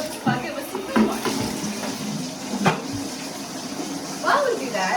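Tap water runs into a bucket with a steady splashing rush, punctuated by a few louder sloshes and knocks. A voice is heard talking over it.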